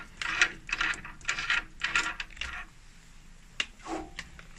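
A stainless steel mesh filter at the back of a Flight ClaveB sterilizer is turned loose by hand, giving a run of close, scraping mechanical rasps, a pause, then a few more.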